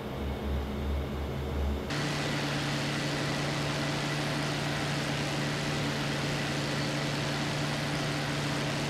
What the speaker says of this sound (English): Resting my engine now.